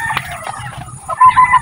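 Chickens cluck in a quick, close burst of short calls lasting under two seconds.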